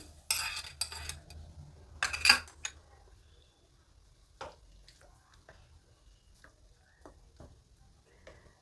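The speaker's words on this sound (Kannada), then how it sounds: "ಈಗ ಒಗ್ಗರಣೆನ ಹಿಟ್ಟಲ್ಲಿ ಸೇರಿಸ್ತಾ ಇದ್ದೀನಿ." Hot tempering is stirred with a spoon into paddu batter, giving two short sizzling bursts with spoon scrapes, followed by faint, sparse clinks and stirring sounds in a quiet kitchen.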